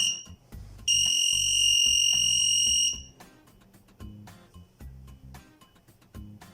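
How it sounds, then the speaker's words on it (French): Electronic alarm from an airsoft bomb prop sounds one long, loud, steady high-pitched tone lasting about two seconds, with softer beeping and background noise before and after it. "un compte à rebours de 10 secondes se met en place avec un bip chaque seconde"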